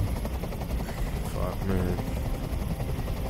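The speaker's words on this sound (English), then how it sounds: "Tell that helicopter to get out of here." A helicopter in the video game Detroit: Become Human gives off a continuous low, throbbing rotor drone, while someone speaks over it and swears.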